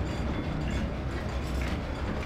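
A train running along rails, a steady low rumble with a faint rhythmic clatter that holds at an even level throughout, with no voices.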